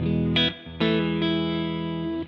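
Electric guitar played through stacked overdrive pedals into a V40 amp: a few distorted chords struck in quick succession, each ringing out with sustained, gritty harmonics before being cut off.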